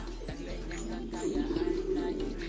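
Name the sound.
pigeons cooing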